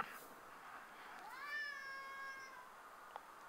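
A house cat meows insistently for food: one drawn-out, rising and falling meow in the middle, faint and close, over quiet room background with no speech.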